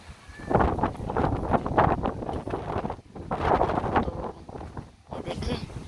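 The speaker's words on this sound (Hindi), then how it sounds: "ये देखिए फ्रेंड तेज़ हवाओं के साथ बारिश हो रही है।" Rain driven by strong storm winds on a rooftop in Gulshan Hadeed Phase 1, heard as gusting, buffeting wind noise that rises and falls in waves, close to the microphone, with someone talking in between.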